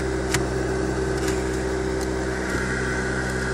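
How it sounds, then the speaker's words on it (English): A noisy heater fan blowing inside a VW Golf: a steady whirring hum with a faint tonal drone, constant and close throughout. "fan's blowing, but it's just got a noisy fan"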